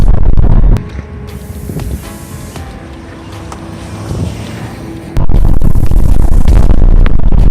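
A Porsche Panamera 4S being driven through a handling test, with loud broadband road and wind roar that drops to a steadier engine drone with tonal hum mid-drive, then surges back to full rushing noise.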